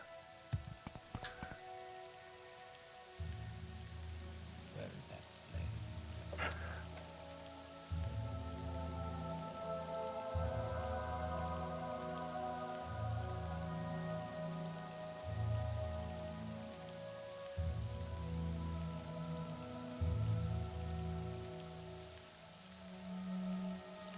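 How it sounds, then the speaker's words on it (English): Rain falls in the video game Morrowind, a soft, steady patter of drops heard faintly alongside a low, repeating ambient tone, with no voices. "Starting to rain."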